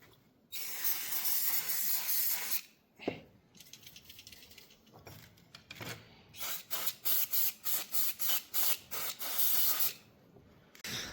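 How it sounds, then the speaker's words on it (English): A carb cleaner aerosol can hisses in a long continuous spray into a 1980s Honda Melody moped carburetor, then in a series of short rapid bursts, close and loud. "Spray some carb cleaner in there"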